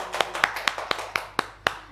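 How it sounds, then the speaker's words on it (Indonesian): A small classroom group claps for a classmate in a short run of about eight sharp, evenly spaced claps, close and clear with no talking. "Tepuk tangan dong buat teman kalian."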